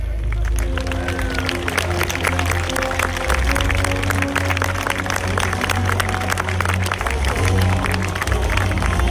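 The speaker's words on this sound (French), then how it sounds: "Veuillez les applaudir." A crowd applauds and cheers the knights at an outdoor medieval tournament at la Baillée-des-filles in Les Ponts-de-Cé, steady dense clapping that lasts throughout over a low rumble of background hubbub.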